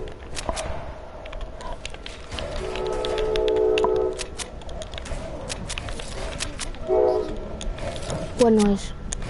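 A train rumbles past near a house, with a loud horn blowing in a few sustained tonal blasts over steady rolling noise and clicks; people talk intermittently.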